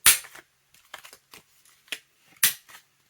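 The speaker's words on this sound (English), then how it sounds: "we're going to round the two corners of our pocket" Corners of a paper file folder pocket being rounded with a corner punch for a ring-bound junk journal, a few sharp snapping punches separated by quieter clicks and handling of paper, close and otherwise quiet.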